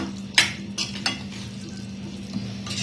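Paneer bhurji cooking in a pan on a gas stove, with a soft steady sizzle under several sharp clinks and scrapes of a spoon stirring against the pan.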